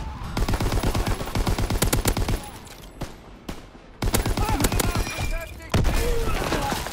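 Browning Automatic Rifle bursts crack out in a Call of Duty WWII match, rapid close volleys in several runs separated by brief pauses, with game sounds and a voice underneath.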